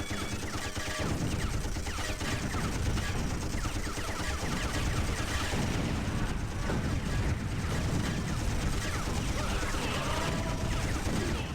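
Dense, continuous gunfire and blasts from the shoot-'em-up game Jets'n'Guns Gold, rapid overlapping shots and explosions layered under a steady stream of action noise throughout.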